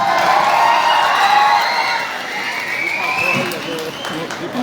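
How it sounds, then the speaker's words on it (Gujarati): A crowd at an Aam Aadmi Party political rally in Gujarat claps and cheers to welcome a speaker, a steady dense wash of applause running under an amplified voice. "જોરદાર તાળીઓથી બ્રિજરાજભાઈને વધાવીએ."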